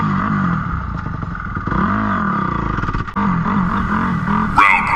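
A vehicle engine roars and revs hard under load while climbing a steep hill, loud and close throughout with rising and falling pitch as the throttle is held on, plus clattering from the rough ride.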